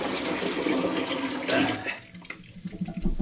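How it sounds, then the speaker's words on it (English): Liquid poured in one big stream into a home-brew bucket standing in a sink, a loud gushing splash that fades into dripping and a few small splashes. "Let's see if I can just do a big pour without it going everywhere."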